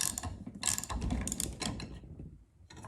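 Rapid metallic ratcheting from a wrench tightening the nut on a valve spring compressor fitted to a Big Block Chevy cylinder head, close clicking bursts with brief pauses, dropping off near the end.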